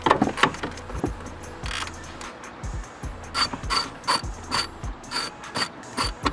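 A hand ratchet working nuts loose on a BMW E46 tail light, giving a clicking pawl rattle in short bursts with pauses between strokes, close and fairly loud.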